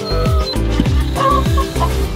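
Chickens in a permanent, predator-proof backyard run cluck repeatedly at close range, a loud, steady run of short clucks with no talking.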